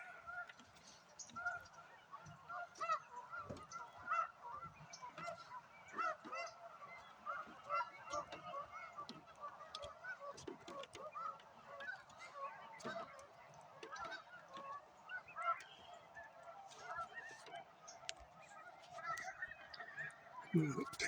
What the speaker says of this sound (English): snow geese are flying.